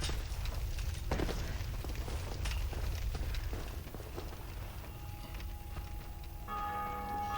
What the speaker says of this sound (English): I love how the bell rings like he has no hope.